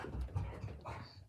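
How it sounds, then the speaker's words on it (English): Dogs close by, a short run of panting, snuffling and soft whimpering sounds with no clear barks, lasting little more than a second. "that's the dogs"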